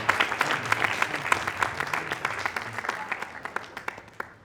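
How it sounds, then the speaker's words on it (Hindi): An audience at a Pariksha Pe Charcha nutrition master class claps to send off a guest, a brisk round of applause with distinct individual claps that gradually thins and fades out. "तालियों से इनको आपको विदा करना है।"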